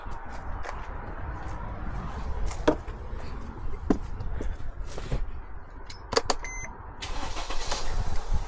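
A diesel Mercedes Sprinter van is jump-started with a GOOLOO A3 3000A booster, giving sharp clicks and mechanical knocks over a low, continuous engine rumble, heard close up outdoors.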